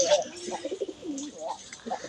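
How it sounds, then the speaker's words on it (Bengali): Two pigeons cooing nearby in soft, low, repeated coos spread across the short stretch, with brief rustling and faint background noise. "আজকে আমার এখানে আছে দুইটা কবুতর।"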